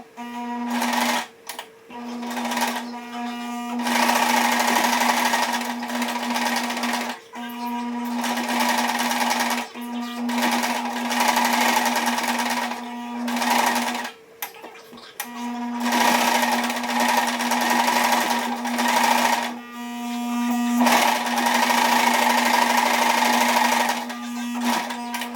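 A sewing machine stitches fabric for sparkly double-layer mouse ears, running in steady, loud bursts with short pauses between runs.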